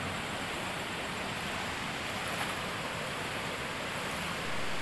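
River water flowing in the Luk Sanding river in the Aceh mountains, a steady broadband rushing wash, constant and moderately distant with no voices.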